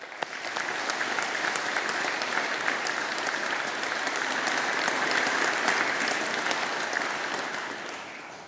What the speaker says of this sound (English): show our appreciation and gratitude with a round of